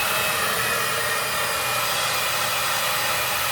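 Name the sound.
hair blow dryer blowing on hair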